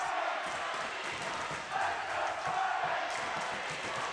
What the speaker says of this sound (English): now a full-on cheering match here between the two sets of fans